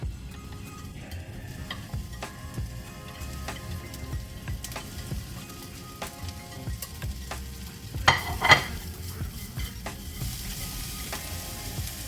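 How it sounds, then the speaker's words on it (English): Onion, carrot, garlic and ginger cook in a pan, a soft continuous sizzle broken by light ticking clicks of a utensil, with a brief louder stir partway through and no talking. "So I'm going to start cooking the vegetables"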